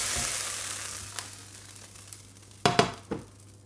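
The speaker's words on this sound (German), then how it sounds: "Und auch die brate ich ein bisschen scharf an." Food searing in hot oil in a frying pan while cooking a Schaschlik stew, a soft steady sizzle that fades, followed by a few close clatters of utensil or pan near the end.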